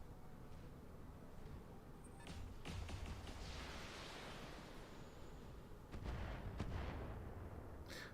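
Missiles launching and impacting in the BattleTech video game, a quiet run of rumbling booms and bursts with a couple of stronger thuds, steady low roar between them and no talk.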